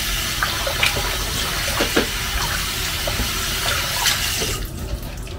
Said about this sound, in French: La viande, je la rince toujours à l'eau froide.